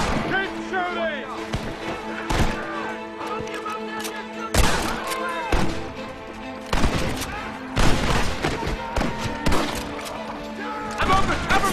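A shootout in the video game Red Dead Redemption: sharp gunshots burst at irregular intervals, some in quick clusters, over loud shouted voices.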